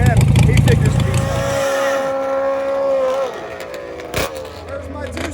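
A Kawasaki ZX14 and a Harley motorcycle race at the top end of a drag strip, their engines whining and droning at a distance beneath a commentator talking over the action.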